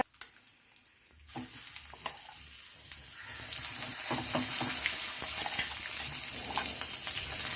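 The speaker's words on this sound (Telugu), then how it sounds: "తాలింపు వేసుకొని బాగా కలుపుకుందాం" Spices for tempering hit hot oil and burst into a loud, crackling sizzle that builds and keeps popping steadily, with no voices.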